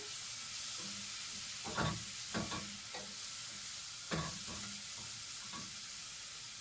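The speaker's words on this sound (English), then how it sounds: "I want to give this a little stir now so my leeks all saute nicely" Sliced leeks sizzle and fry in a pan while being stirred, with a soft continuous hiss broken by several brief scraping stir strokes.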